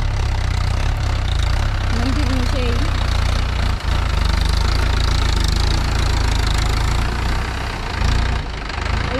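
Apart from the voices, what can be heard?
big tractor engine idling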